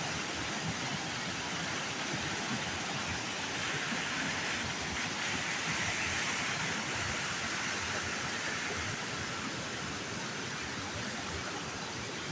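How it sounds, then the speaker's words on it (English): Water flows off a dam and runs down through a forest as a stream, a steady, full rushing wash that holds constant throughout without any voices. "That water is actually flowing off of the dam. It's coming through the flash forest and flows down around that way."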